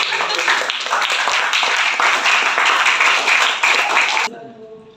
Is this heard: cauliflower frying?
no